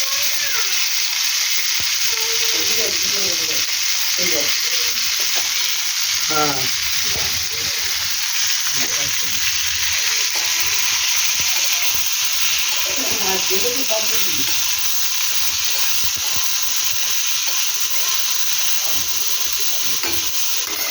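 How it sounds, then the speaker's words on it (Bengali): Sliced pumpkin and bitter gourd fry in a pan with a steady, close sizzle that runs the whole way through, broken by a few soft stirring scrapes. "ভাজাভুজি হয়ে গেছে।"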